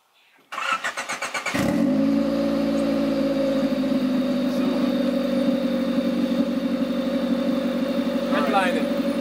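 Motorcycle fitted with a custom blast pipe exhaust, left in gear and started: a sputtering crank catches into a loud, rough, steady idle with pulsing exhaust beats, close up.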